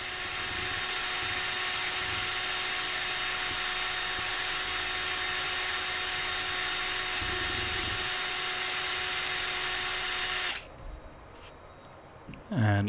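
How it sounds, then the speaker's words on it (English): A steady, high-pitched electric drill fitted with sandpaper whines continuously for about ten seconds, grinding surface rust off a Rolls-Royce Silver Cloud axle with a gritty abrasive hiss, then cuts off, leaving quiet handling noise. "I'll use my drill and some just sandpaper here just to take off all this"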